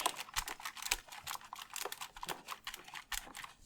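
Rapid irregular tapping and patting on computer keyboard parts with an alcohol-soaked rag during PC cleaning, a dense clicky patter of light taps close to the mic with no voices.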